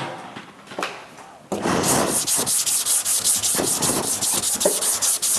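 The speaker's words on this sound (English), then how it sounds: "Almost kind of wet sanding, if you will." Rapid, rhythmic back-and-forth wet sandpaper strokes rubbing on a surface, loud and close, starting after a quieter moment.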